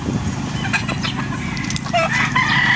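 Gamecock battle stag roosters at a game farm in Batangas, clucking and calling continuously in a dense flock, with scattered crows and chatter close by.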